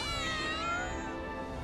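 Several cats meow in quick succession in Final Fantasy VII Remake, high-pitched overlapping mews ringing out clearly with no talk over them.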